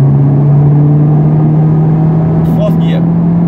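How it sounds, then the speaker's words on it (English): Honda Civic Type R with a manual gearbox pulls hard in 4th gear, a steady, loud engine drone heard from inside the cabin with a constant low tone, and a voice speaks near the end. "4th gear acceleration."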